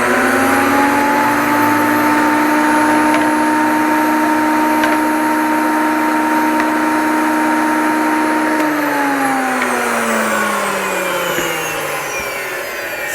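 A powered sanding machine working scrap wood, a loud steady motor whine with a constant grinding hiss that holds for most of the stretch, then drops in pitch as the machine slows near the end.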